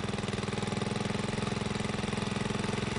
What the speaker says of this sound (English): When mud is flowing through the bit, he increases the rotary speed using the throttle.